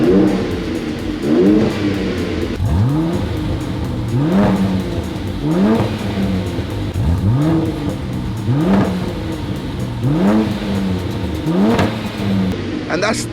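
A Mercedes C43 AMG engine revs repeatedly in sharp rising bursts, about a dozen blips in a steady rhythm, loud and close with a throaty open-exhaust growl.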